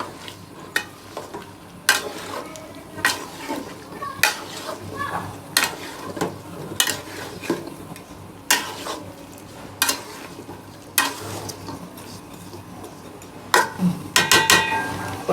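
Drumsticks being stirred in mustard paste in a pan, a rhythmic series of close spatula scrapes and clanks against the metal over a low frying sizzle, quickening near the end.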